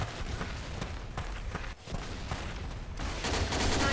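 Gunfire in an online shooter video game, with rapid bursts of shots and clattering battle noise throughout, fairly faint and dense, growing busier near the end.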